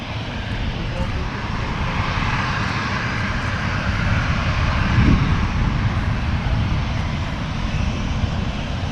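A landing airliner at Manchester Airport rolls out with a loud, steady jet roar as its reverse thrust winds back, a broad rumble swelling slightly midway and then holding level.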